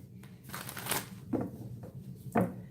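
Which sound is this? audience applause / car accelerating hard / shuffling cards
shuffling cards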